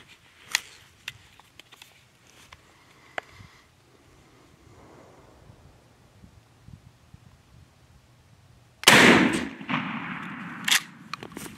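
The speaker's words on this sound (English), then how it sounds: "this is the final shot of the test. 60 yards with the Carlson choke tube." A turkey shotgun fitted with a Carlson long beard choke tube fires at a 60-yard target: scattered small clicks and handling noises, then one loud sharp blast with a rolling decay, followed by outdoor rustle.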